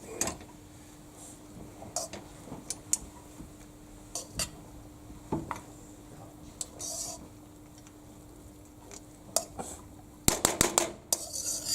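Stir-fried rice tossed in a pan during a school cooking demo, with scattered metallic clinks and scrapes of a utensil against the pan, irregular and fairly faint, bunching into a quicker flurry near the end.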